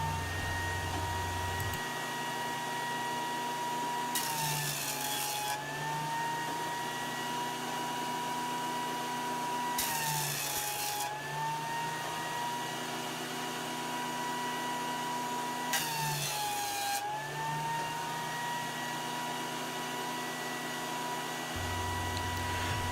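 A jointer cleaning up the face of a wooden board for a cooler deck box, its motor whining steadily while three loud rasping cutting passes bite in at regular intervals, each pulling the motor pitch down briefly, close and loud.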